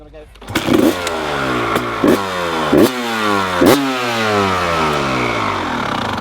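A 250cc two-stroke dirt bike engine catches and then revs in a series of sharp throttle blips, its buzzy tone rising and falling loud and close, with speech nearby.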